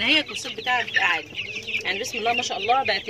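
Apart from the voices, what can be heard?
roosters crowing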